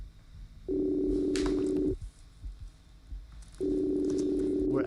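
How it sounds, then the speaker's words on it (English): A phone ringback tone sounds twice, each long steady burr lasting over a second and separated by a pause, with faint background noise between them. "We're actively trying to call Jet. You can hear the ringing."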